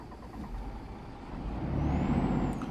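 A DAF XD truck in Euro Truck Simulator 2 starts up, a low engine rumble building and swelling over a few seconds with a faint rising whine, heard alone and fairly quiet.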